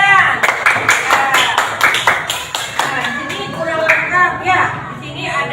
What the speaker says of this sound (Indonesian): Tepuk tangan untuk Jidan.